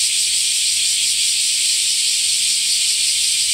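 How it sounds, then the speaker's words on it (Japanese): Cicadas shrill loudly and continuously in a hot summer park among sunlit trees, a dense, unbroken high hiss with no pauses and no voices. "セミの鳴き声が非常にうるさい"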